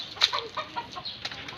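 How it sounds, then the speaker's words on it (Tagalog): Chickens cluck in a few short, soft calls close by, one sharper squawk among them, with quiet background. "Ito yung mga manok."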